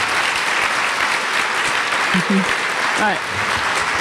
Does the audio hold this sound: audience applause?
yes